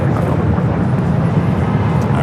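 A Boeing 747 "Queen" taking off from LAX bound for Luxembourg, a loud, dense, continuous engine roar filling the short stretch, close and powerful.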